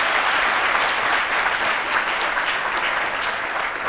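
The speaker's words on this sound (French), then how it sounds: "Ça, je crois que ça peut s'applaudir" Steady, dense audience applause from a crowd in a broadcast studio, a continuous loud wash of many hands clapping with no gaps across the whole stretch.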